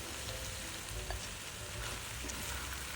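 Rice tipped into a hot pan of vegetables and sauce for fried rice, frying with a steady, dense sizzle that holds loud and close throughout, with faint stirring scrapes.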